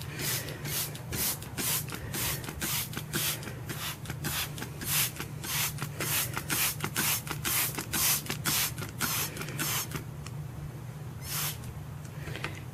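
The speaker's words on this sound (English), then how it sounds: "I'm going to spray." A spray bottle hisses water onto dried painted wood in a long series of quick, regular squirts, close by, with a short pause near the end.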